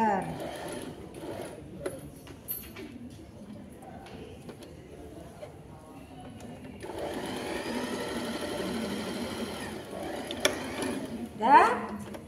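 Sewing machine stitching a placket opening on fabric, running in a steady mechanical whir for several seconds in a mid-session burst, with a classroom voice talking around it and a brief sharper clatter near the end.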